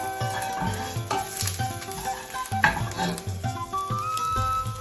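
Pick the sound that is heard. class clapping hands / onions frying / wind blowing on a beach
onions frying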